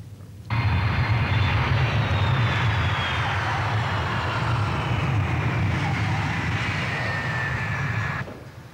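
A fixed-wing airplane drones steadily overhead, a loud continuous engine roar with a high whine that starts abruptly and cuts off near the end, with no voices.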